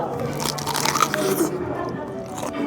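Teeth bite into crispy pata, a deep-fried pork leg, producing close crackly crunches and moist chewing while a person talks over the eating.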